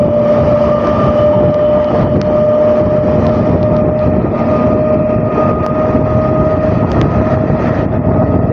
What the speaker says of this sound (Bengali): শিয়ালদা লোকাল ডাউনে এই